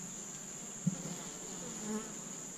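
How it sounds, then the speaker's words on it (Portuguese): A swarm of honey bees buzzes steadily at a newly set-up apiary, a dense continuous hum with a faint individual bee passing close now and then; no talk. "tem muita abelha"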